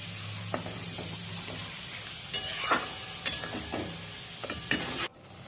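A spoon stirs sesame paste into Malabar spinach frying in a pan, giving a steady close sizzle with scraping strokes and soft clinks scattered through the middle, then a sudden cut near the end.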